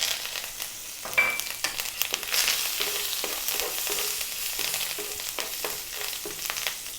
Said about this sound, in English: In goes the curry leaves, which sometimes can be quite loud.